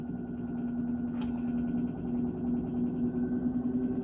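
A home generator engine runs steadily close by, a continuous droning hum with a faint rise in level toward the end as its speed increases, no talking.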